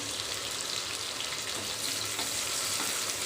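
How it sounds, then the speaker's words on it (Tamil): Onion, green chili, tomato and cashews sautéing in a pan, a dense, hissing sizzle that holds steady throughout, close and continuous with no voices. "ஒரு வெங்காயம், பச்சை மிளகாய் இதை போட்டு கொஞ்சம் வதக்கி விட்டுக்கலாம்"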